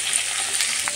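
Onions fry gently in a pan, giving off a steady close sizzle and crackle that lasts the whole short moment, with no one speaking.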